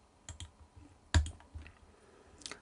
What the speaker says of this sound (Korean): 컨트롤 1키 눌러서 테두리에서 대각선 한 번씩 줍니다